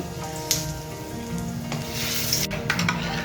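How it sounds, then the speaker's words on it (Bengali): Panch phoron spices crackle and sizzle in hot oil in a home kitchen, a dense steady frying hiss with a few sharp pops and light utensil knocks, close and fairly loud. "একটু পাঁচফোড়ন দিয়ে দিলাম"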